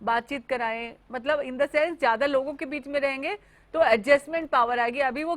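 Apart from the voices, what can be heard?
None of the usual background noises is heard.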